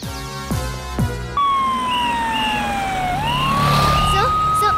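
A loud wailing siren sweeps up and down close by after a few low thuds and clanks, holding steady over a rumbling background.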